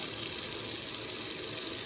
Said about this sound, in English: now I'm just filling up the sink again with just clean water